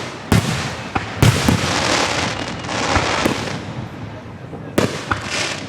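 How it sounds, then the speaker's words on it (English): Fourth of July fireworks bursting at Gettysburg, several sharp booms spaced a second or more apart over a steady crackling, crowd-filled background, with people talking nearby. "The Gettysburg 4th of July fireworks are... Look at them go."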